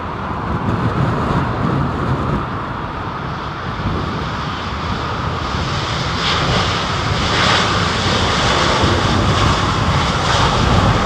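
A Boeing 747 landing at London Heathrow Airport fills the air with a loud, steady, broadband jet roar that holds constant and swells slightly toward the end, with no voices.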